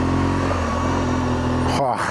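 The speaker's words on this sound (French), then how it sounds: "on accélère un peu pour voir" A motorcycle engine drones steadily and loudly up close, accelerating before cutting off abruptly near the end.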